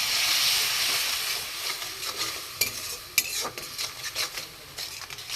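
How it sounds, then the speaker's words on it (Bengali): Spice paste is stirred and sautéed in a pan for a sweet potato curry, a soft sizzle under scraping spoon strokes and several sharp metallic clinks against the pan, close and without talk. "ভালো করে কষিয়ে নেব মশলাটা"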